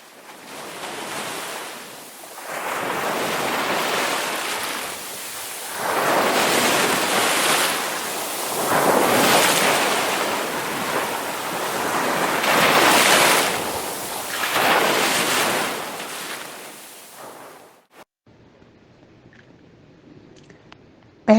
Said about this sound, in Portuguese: Esse é o nosso mar, que eu deixo aqui registrado para todos vós.